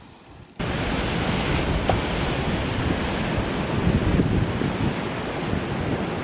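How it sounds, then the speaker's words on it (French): Waves surge in and crash against rocks on the Guadeloupe coast, a loud, steady roar of churning surf and wind noise that kicks in abruptly and continues to the end. "Et l'eau arrive et frappe sur les rochers."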